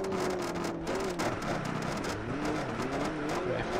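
A rally car in the Richard Burns Rally video game slides through a corner, its engine droning and revving up and down steadily, with gravel noise running continuously under the steady motor tone.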